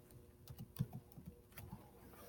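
A file name is typed on a computer keyboard: a quiet, quick run of soft, close keystrokes in an uneven rhythm, with no one speaking.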